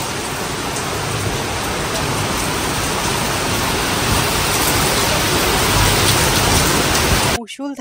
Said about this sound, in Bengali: মুষলধারে বৃষ্টি শুরু হয়ে গেছে, তো তোমরা দেখলেই শিলাবৃষ্টি হচ্ছে